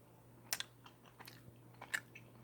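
Crunchy bites of a frozen Jose Ole chicken taquito being chewed close up, a few sharp crunches spaced over a couple of seconds against a quiet room with a steady low hum.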